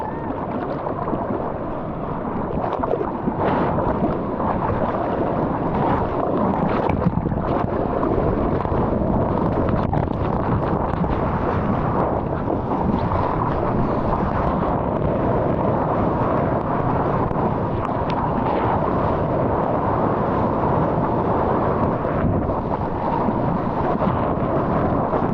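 Ocean waves breaking at a surf point break, a steady broad roar of surf and rushing water with wind buffeting the microphone, continuous and moderately loud for the whole stretch.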